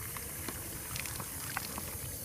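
Water runs into a fly trap bag from the top, a soft, close bubbling and gurgling trickle that holds steady for a couple of seconds.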